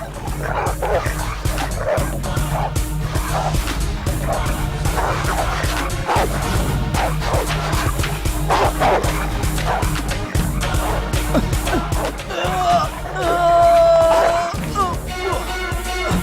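Several dogs bark, yip and yelp again and again, loud and continuous, under dense music and action-scene noise in a Hindi-dubbed South Indian action film.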